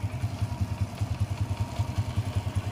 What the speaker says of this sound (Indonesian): Sekarang kita hidupkan motornya. Motor sudah hidup ya guys.